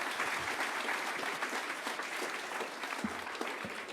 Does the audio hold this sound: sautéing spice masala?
no